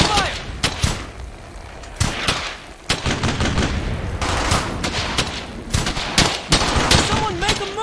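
Gunfire in the World War II shooter Brothers in Arms: Hell's Highway: loud, dense bursts of rifle and machine-gun shots, close and overlapping, with voices shouting between volleys.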